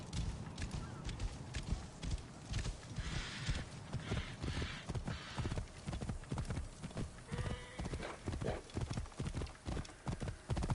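Horse hooves clip-clop in steady rhythm as a horse is ridden in Assassin's Creed Origins, close and continuous for about eleven seconds, with faint game ambience behind.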